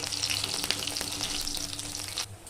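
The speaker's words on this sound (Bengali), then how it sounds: "এক মিনিট মতো ভাজা হওয়ার পর এটাকে আমি উল্টে দিলাম" Bok flower fritters frying in oil in a wok, a steady close, bright crackling sizzle that holds throughout and drops off abruptly at the very end.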